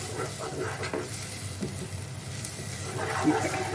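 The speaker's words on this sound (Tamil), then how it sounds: "இஞ்சி பூண்டு வந்து நல்லா எண்ணெயிலே வந்து வதக்கட்டும்." Ginger and garlic sautéing in hot oil for a quail pepper masala, a steady close sizzle with scraping stir strokes that grows a little busier toward the end; no voices.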